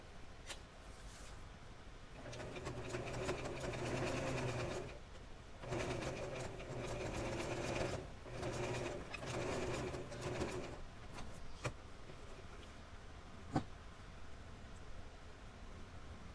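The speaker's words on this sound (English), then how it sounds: "now I'm just gonna sew that shut on the machine" A sewing machine closes a hole in a doll nightgown in a quiet room, running in faint, steady stretches broken by brief pauses, with soft clicks and low background noise throughout.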